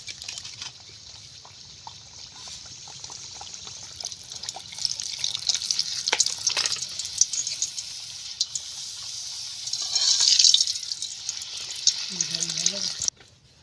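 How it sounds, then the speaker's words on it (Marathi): Puris deep-frying in hot oil in a kadhai, a bright continuous sizzle that swells as the dough hits the oil and bubbles vigorously, close and fairly loud, with a brief voice near the end. "आता ही पुरी आपण तेलामध्ये टाकली आहे"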